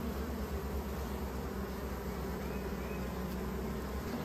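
Honeybees hum steadily at a horizontal hive, a continuous close buzzing drone that holds even and alone throughout.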